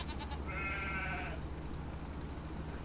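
A goat in the video game Farming Simulator 25 gives one short, faint bleat over a steady low hum of background noise.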